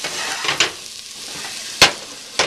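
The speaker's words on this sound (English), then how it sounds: "a cup and a half of celery and one medium onion I cut into wedges and I'm browning" Celery and medium onion wedges brown in a pot, giving a steady close sizzle broken by a few sharp stirring scrapes near the start, the middle and the end, with no voices.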